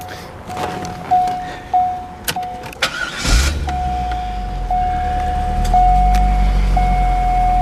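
A 2000 Chevrolet Corvette coupe starts up: a few electronic chimes, a sharp cranking burst, then the engine catches and settles into a steady, close, fairly loud idle while the chimes keep repeating.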